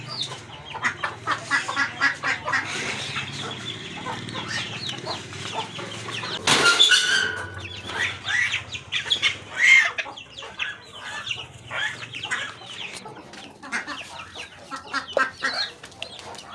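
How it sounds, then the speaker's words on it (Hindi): Hens cluck and murmur close by in an uneven, busy chorus, with a brief loud rustling burst partway through and occasional sharper squawks. "ये हमारी मुर्गियाँ जो कि अभी अंडों पे बैठी नहीं, खड़ी हुई है"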